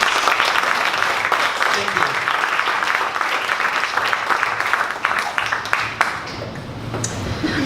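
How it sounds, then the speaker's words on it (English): An audience at a startup pitch event applauds, dense sustained clapping from many hands filling the room at close range and staying strong throughout. "Can we get a round of applause for EZLytix?"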